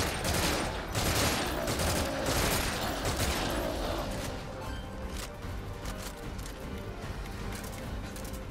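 Mounted gun firing in the video game Metal Gear Survive, a loud stream of rapid shots in the first half, easing into scattered mechanical clatter and game noise.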